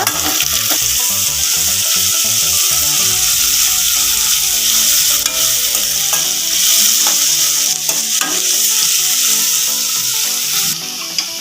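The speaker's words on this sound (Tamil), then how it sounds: "நம்ம சின்ன வெங்காயம் கட் பண்ணி வச்சுருக்கேன் போட்டுக்கலாம் கொஞ்சம் ஒரு ரெண்டு இனுக்கு கருவேப்பிலை போட்டுக்கலாங்க போட்டு நல்லா வதக்கிக்கோங்க" Small shallots and curry leaves sauté in hot oil for a crab curry, a loud, continuous close-up sizzle with frequent stirring and scraping in the pan.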